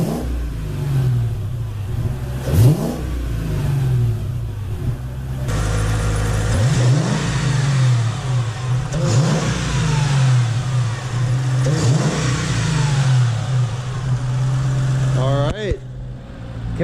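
Mercedes AMG SL55 supercharged engine with an upper blower pulley, idling with a low steady drone and then revving several times in short bursts, while a person talks over it.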